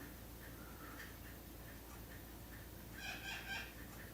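A bird calls outdoors, faint and distant, with short repeated chirps and a brief clucking burst toward the end over quiet background noise.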